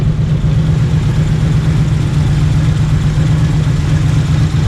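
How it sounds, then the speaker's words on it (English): A 1967 Chevy engine running at a steady idle, a loud, close, even low rumble with no change in pitch. "Overall, the motor sounds great. No valve noises,"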